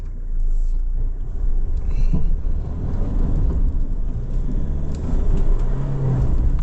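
A 2025 Mitsubishi Triton GLX pulling away uphill in low range off road, its engine giving a steady low rumble and whir that holds level throughout, close by, with no voices over it.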